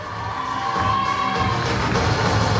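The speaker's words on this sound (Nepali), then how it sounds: "एकचोटि तालीको आवाज सुन्न चाहन्छु." An audience at the Miss Air Hostess 2021 pageant claps and cheers, a broad wash of crowd noise that swells louder after the first second and holds steady, with no speech.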